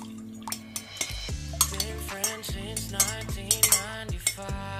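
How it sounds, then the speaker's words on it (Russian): A spoon stirring homemade iced tea with lemon juice, clinking rapidly and repeatedly against the glass in an irregular rhythm, close and bright, with no talking. "Хорошенько перемешиваем."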